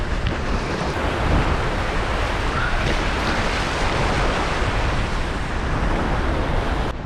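Heavy sea swell crashes and washes continuously against a rocky shoreline on a rising tide, loud and close, with wind buffeting the microphone throughout.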